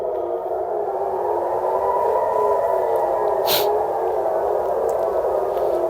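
Air raid siren sounding over central Israel during an Iranian missile attack: one steady, sustained wail that holds at a constant loudness for the whole stretch, with no voices over it.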